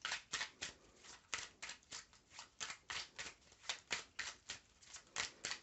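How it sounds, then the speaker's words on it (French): Tarot cards are shuffled in quick, regular riffling bursts, about four crisp papery swishes per second, close and fairly quiet with no talk over them. "On va retirer des cartes."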